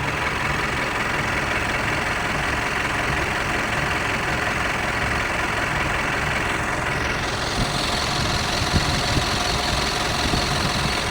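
A Mitsubishi Pajero engine running without a thermostat, idling steadily with a heavy low rumble and a rough knocking vibration, loud and close, constant throughout with no talking.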